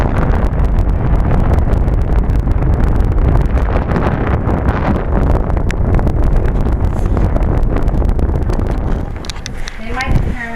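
A mini duct high velocity air conditioning vent in a house blows hard, a loud close rushing gust of air that buffets the microphone continuously, with a voice briefly heard near the end.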